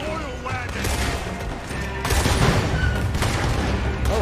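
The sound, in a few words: gunfire shooting at an oil wagon in a video game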